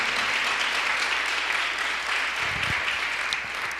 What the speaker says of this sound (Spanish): Si le va a aplaudir, apláudale,